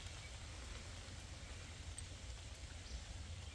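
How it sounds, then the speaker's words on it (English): Steady rain falls on a wooded hiking trail in Missouri, a dense, even hiss of drops on leaves and ground that carries on without a break, close and moderately loud with no voices. "And here comes the rain."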